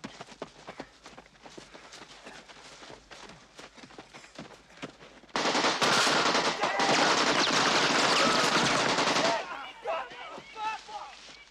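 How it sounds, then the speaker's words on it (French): An AK-47 assault rifle fires a sustained, loud burst of full-auto gunfire lasting about four seconds, preceded by quieter movement and bustle and followed by fading noise. "Ça, c'est le AK-47, fusil d'assaut, l'arme préférée de vos putains d'ennemis. Son tac-à-tac est typique"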